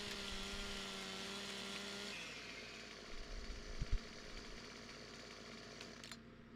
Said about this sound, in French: Avec ma tronçonneuse et tout ça.